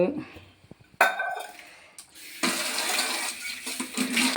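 A cup lifted after black coffee has boiled in a home kitchen, giving a few small clinks and scrapes of crockery. Quiet handling noises and faint speech follow.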